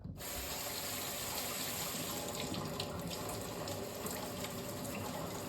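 Treadmill electronics from a Pro-Form treadmill are rinsed under a running tap, a steady close rush of water that starts abruptly and continues unbroken.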